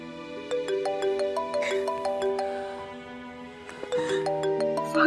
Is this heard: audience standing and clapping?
no